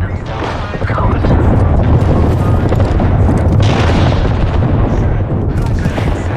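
Grenade blast in a battle royale shooter game, a heavy booming roar that stays loud and dense throughout, with overlapping gunfire-like bursts and a voice talking over the din.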